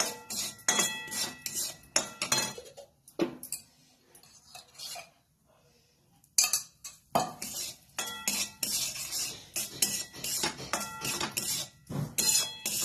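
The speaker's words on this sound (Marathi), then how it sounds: "या ठिकाणी रवा भाजतोय मी, गॅस बारीक केलेला आहे।" Semolina roasting in ghee in a pan over low gas, heard as repeated scraping and clinking of a spoon against the pan in bursts, with short quiet pauses in between.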